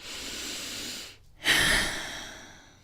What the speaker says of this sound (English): So just take a deep breath.